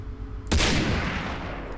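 Gunfire in the video game Far Cry 3, a sudden loud close blast followed by a dense rattling decay of shots and echo, with no talking.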